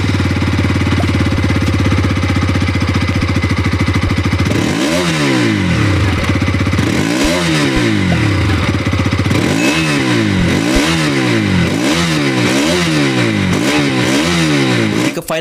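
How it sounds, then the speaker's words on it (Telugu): A 2025 Bajaj Pulsar RS200 motorcycle idles loudly and close, then its exhaust is blipped repeatedly in a series of sharp rising and falling revs, roughly one burst per second. "నెక్స్ట్ మనం ఈ బైక్ యొక్క ఎగ్జాస్ట్ నోట్ ఒకసారి విన్న తర్వాత"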